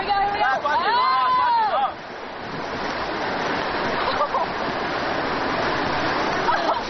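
The Mengdong River rushes past rafters as a broad, steady roar of whitewater, with people's voices and shouts rising over it at the start.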